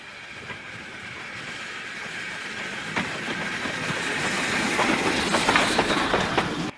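A 0-6-2 steam tank locomotive running light on the Great Central Railway, its rumble and rhythmic wheel clatter on the rails growing louder as it approaches.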